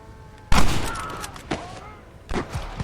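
Gunfire in the Western video game Red Dead Redemption: three loud, booming shots roughly a second apart, each with a rumbling tail, set against faint game ambience.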